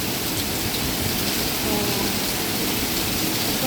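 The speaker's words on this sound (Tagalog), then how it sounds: "sobrang lakas talaga guys ng ulan." Heavy rain pours down in Singapore, a dense, loud, steady hiss of downpour on surfaces, with a brief spoken word over it.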